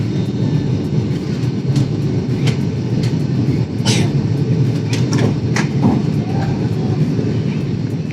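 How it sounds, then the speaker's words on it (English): A passenger airliner accelerates while turning onto the runway for takeoff at a busy airport, a loud steady engine roar heard from inside the cabin, with scattered clicks and rattles over it. "Oh god, we're accelerating whilst we're turning."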